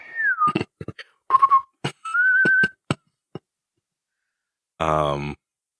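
A whistle signal in a video game sounds as several short, gliding tonal whistles, interspersed with clicks and a person talking over them.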